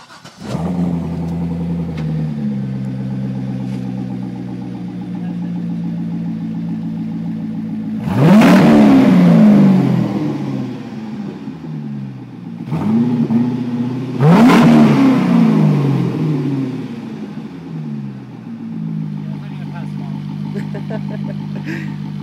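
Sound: 2005 Corvette engine revving with Borla exhaust

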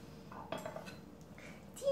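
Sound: spoon stirring meatball stew in a dish

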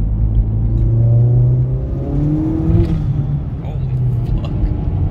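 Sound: VW MK4 1.8T with stage 2 tune accelerating

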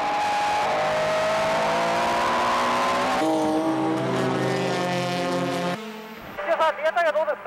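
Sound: Super GT race cars racing at Suzuka

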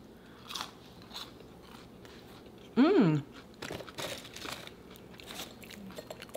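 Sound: crunching crispy golden french fries

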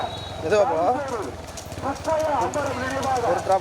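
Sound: racing bulls' hooves in a bull race

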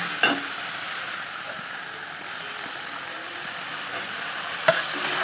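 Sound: baingan pora stirred into onion and tomato frying in oil

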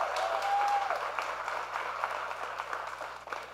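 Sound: audience applause

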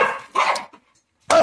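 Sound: dog barking

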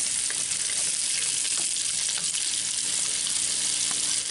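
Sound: rabbit pieces frying in olive oil in Dutch oven

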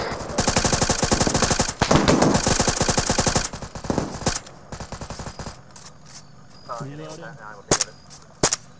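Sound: gunfire in the video game ArmA 3

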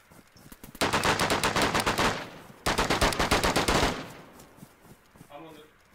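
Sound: gunfire in an online PvP video game

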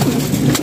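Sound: pigeon cooing

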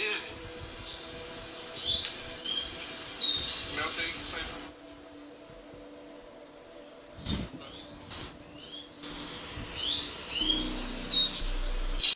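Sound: sayaca tanager (sanhaço) singing at the speaker's home

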